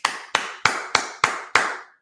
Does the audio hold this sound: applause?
yes